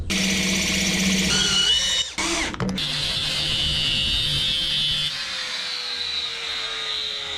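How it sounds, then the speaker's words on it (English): A power drill whines steadily while drilling out metal cupboard handle plates, with a brief stop and restart partway through, then a slowly falling pitch as the bit spins down. "so what I might be able to do is drill them out"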